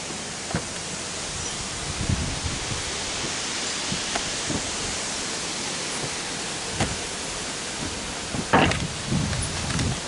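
Steady broadband roar of strong wind buffeting outdoors, continuous and loud, with occasional brief gusts and crackles.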